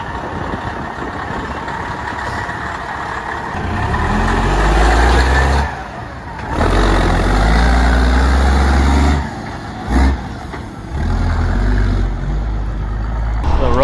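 An old Ford cab-over truck engine runs close by with a deep, heavy rumble, rising and dipping in loudness a few times as if revving slightly, with someone speaking briefly over it.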